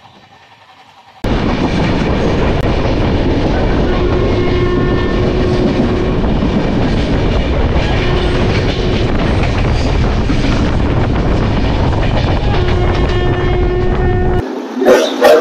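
Shalimar Puri Sri Jagannath Express crossing the Kolaghat bridge, heard from inside the coach as a loud, continuous rumble and clatter of wheels on the bridge that cuts in sharply after a quiet start and drops away near the end.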